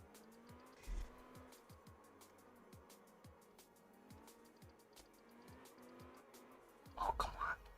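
Tires squeal as a car drifts in the racing video game Absolute Drift, with repeated short skidding squeals over a steady low engine hum and a louder burst near the end, while a person talks over it.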